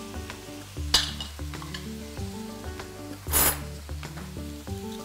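Cream added to a hot pan for zucchini Alfredo sizzles quietly, with a couple of sharper bursts of hiss and light pan and utensil clinks over soft background music.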